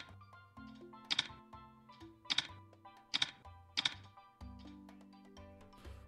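Keys tapped on a computer keyboard during a quiz game, four sharp clicks at a steady spacing against quiet game music, close and distinct.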